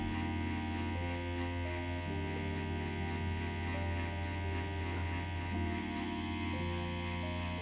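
Tattoo machine buzzing steadily while shading the larger areas of a rose tattoo, a continuous electric hum with slight shifts in pitch as the needle works, close and alone with no talk.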